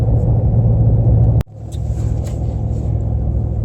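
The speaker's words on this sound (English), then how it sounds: "hopefully we got this engine wrapped up climbing these hills in the sand hills of Colorado" A 2019 Toyota Tundra TRD Pro pickup climbing sand hills in Colorado while towing a trailer gives a loud, steady low engine drone, which drops briefly and then builds back up.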